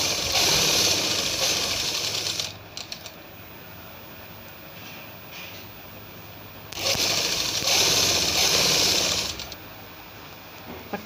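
Sewing machine stitching a baby night suit, running in two loud bursts of steady mechanical whirring with a quieter hum between them and no voices.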